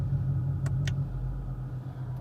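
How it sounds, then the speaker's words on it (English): A 2020 Shelby GT500's exhaust idles in quiet mode, a steady low rumble that stays even and close with no revving and no voices. "So like when you switch it over to, let's go to sport, we can hear the exhaust changed."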